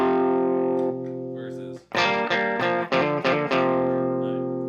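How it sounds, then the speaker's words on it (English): Electric guitar through a Boss distortion pedal with its level boosted, a sustained distorted chord ringing out, then a short burst of loud, gritty strummed chords with slight reverb. "it doesn't have a whole lot more distortion, but it does boost that level quite a bit"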